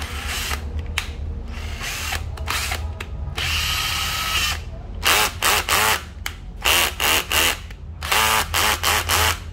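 A Nati EZT113 cordless drill with a 10 mm chuck runs in loud bursts, first a long steady whir, then a series of short on-off pulses as the trigger is pressed and released repeatedly, close and alone.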